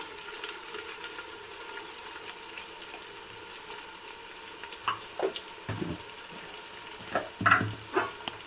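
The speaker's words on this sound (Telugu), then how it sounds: "కొంచెం ఫ్రై చేసుకుందాము పచ్చివాసన పోయే వరకు" Ginger garlic paste frying with fresh coriander and mint for a Hyderabad-style goat head curry, with soft sizzling and occasional stirring clatters growing busier toward the end.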